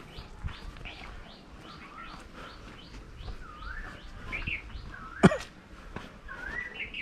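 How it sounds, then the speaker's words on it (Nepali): Birds chirp and whistle in varied short calls around a cattle and poultry farm area at a Nepal refugee camp, moderately near, with a soft dove-like coo and a sharp knock midway. "चराहरू कराएको हेर्नु"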